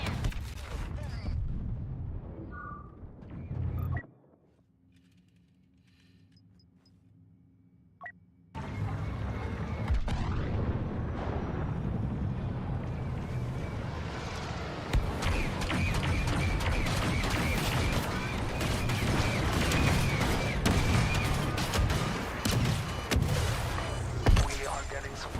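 Cannons fire in a Star Wars video game as a dense, continuous roar of booming blasts and rumbling battle noise, loud and sustained after a brief quiet gap, with some voice mixed in.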